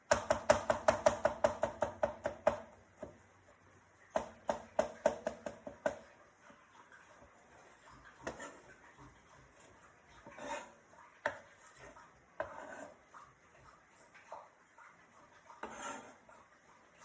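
Garlic minced with a knife on a cutting board: a quick burst of rapid, evenly spaced chops, a pause, a second short flurry, then slower scattered taps and scraping, close and fairly crisp.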